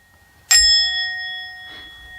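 A single bright notification bell ding strikes once and rings out cleanly, followed by a faint softer chime as it fades.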